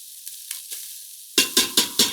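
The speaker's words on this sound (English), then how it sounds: "You hear the sizzling" Onions dropped into a hot pan for an Indian dish, first a few light scrapes, then four loud, evenly spaced bursts of sizzling and stirring close up.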